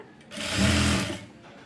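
Sewing machine stitching leaf-pattern piping, a short loud burst of rapid whirring stitching that rises and fades within about a second, with no talk over it.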